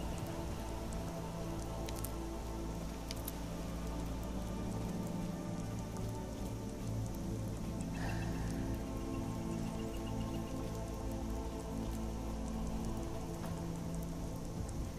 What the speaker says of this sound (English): Ugh, it's rain.